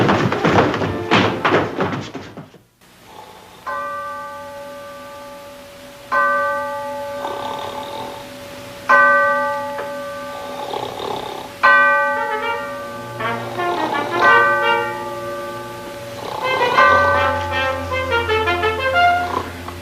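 A ship's bell rings out four bells aboard a vessel, its clear ringing strikes repeating at intervals and overlapping as they decay, after an opening stretch of louder clattering noise.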